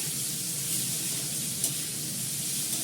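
Potato pieces frying in a wok with cumin, asafoetida and green chillies, a soft, continuous low sizzle with one faint tap of the utensil partway through.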